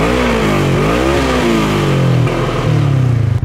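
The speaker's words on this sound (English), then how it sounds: "Stock, I'm gonna rev it up for you guys" A stock Polaris RS1 engine revs up and down close by, the pitch climbing and falling in repeated throttle blips before settling into a higher sustained rev, loud and alone.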